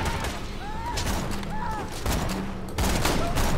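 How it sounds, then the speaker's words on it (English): Borderlands 2 gunfire crackles in bursts throughout, with repeated shots and weapon effects under a busy game soundscape, moderately loud and steady, while a voice occasionally talks over it. "Oh, you people are shooting things again."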